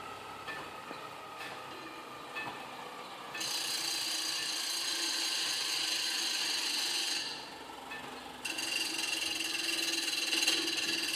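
A blade is sharpened on a bicycle-powered grinder, giving a steady, loud hissing grind that starts abruptly, runs for several seconds, briefly eases off and then resumes, with no talking.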